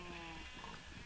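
Sheep bleating in a Wild West video game, one wavering bleat over a steady background hum, faint and close.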